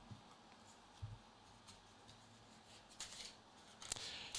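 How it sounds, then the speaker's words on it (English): Soft, brief riffles of cards being shuffled, quiet and close, with a few crisp bursts toward the end. "Give these a quick little shuffle here"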